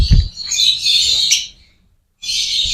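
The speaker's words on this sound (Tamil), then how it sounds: "இந்த ரூமில் ஃபுல்லாகவே ஆஃப்ரிக்கன் லவ் பேர்ட்ஸ் மட்டும்தாங்க" African lovebirds in an indoor breeding room chirp in bright, shrill bursts with a short silent gap between them. The calls sound close and loud.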